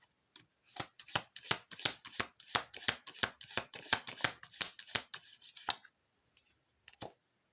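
Tarot cards shuffled by hand in a quick run of crisp riffling bursts, close and clear, then a few softer taps as cards are drawn and laid down.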